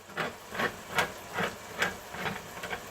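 A can of coconut cream being shaken before opening for Thai yellow chicken curry, giving about seven evenly spaced sloshing thumps, close and fairly quiet, with no talking.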